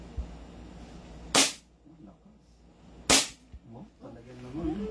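An SRC Hi-Capa airsoft pistol fires two sharp, snappy shots about two seconds apart, close and loud, with people talking quietly between them.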